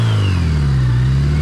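Yamaha XJ650 motorcycle engine revving steadily after warming up, a loud, close, continuous mid-pitched drone with strong low harmonics that climb slightly in pitch, no talk over it.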